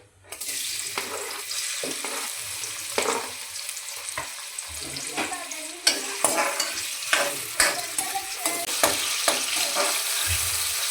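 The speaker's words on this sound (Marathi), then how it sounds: "आता फक्त हे वाटण टाकून परतवायचंय" Mutton sautés with ground masala paste in a pan, a steady close sizzle broken by repeated scraping stirs and clinks that grow denser toward the end.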